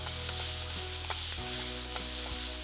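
Onions sautéing with salt in a pan for a sago and rava mini adai, a dense continuous sizzle up close with a few soft stirring knocks and scrapes.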